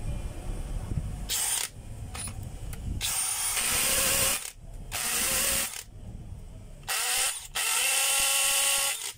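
A power drill being test-run, giving several sharp whirring bursts of differing length with brief pauses between them, loud and close with no talk.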